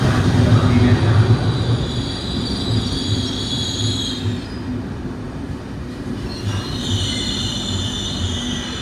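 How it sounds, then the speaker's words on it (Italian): A train arriving at a platform at Venezia Mestre station squeals loudly with sustained high-pitched wheel screeches in two waves, over the low rumble and clatter of rolling rail cars close by. "Treno in arrivo al binario 12."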